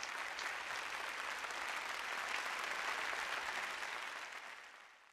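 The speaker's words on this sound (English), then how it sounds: "Round of applause, please" Applause from an audience at an alumni awards night, a steady wash of many hands clapping that holds evenly, then fades out toward the end, moderately quiet and with no talk over it.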